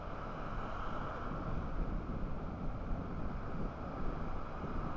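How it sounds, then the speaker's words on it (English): Steady ocean surf washes onto Corralejo beach in Fuerteventura, a dense continuous roar of waves mixed with wind buffeting the microphone, no talk. "The waves are getting a little bit more"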